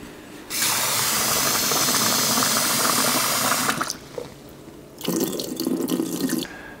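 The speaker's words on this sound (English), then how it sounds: "So what we're gonna do now is rinse it a couple times and throw it in the rice cooker." Soaked jasmine rice rinsed under a running kitchen tap, with a loud steady gush of water, a short pause, then a second burst of splashing flow, close by.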